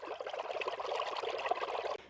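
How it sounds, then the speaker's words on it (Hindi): Water, about a litre, poured into whisked yogurt in a bowl while making kadhi pakora, a steady close splashing trickle running unbroken for about two seconds before stopping abruptly. "अब इसमें मैं 1 लीटर के करीब जो है ना वो पानी शामिल करूँगी।"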